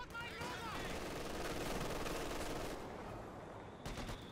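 Machine gun fire in the video game Company of Heroes 2, two guns opening up in dense rattling bursts amid battlefield noise, fairly faint in the mix, with a person talking over it.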